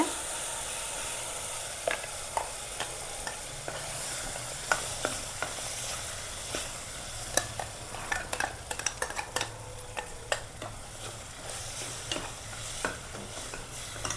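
Ground spice paste sizzles in hot tempering oil for Mandya-style bassaru with a steady hiss, while a spoon scrapes and taps the pan now and then, sharp clicks breaking through the frying.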